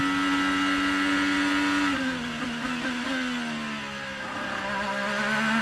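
A race car engine drones steadily on board, its pitch sagging and rising as the driver works the throttle and touches the brakes, loud and continuous with no voices.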